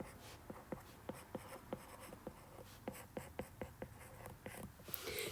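A pen scratches out a math equation in exponential form, a steady run of short, evenly spaced strokes over a low background hiss.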